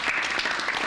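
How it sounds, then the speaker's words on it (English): Audience applause at a talk on future mobility and electrification: dense, steady clapping fills the whole second, loud and close with no voices over it. "Now we have to do a round of applause for every person"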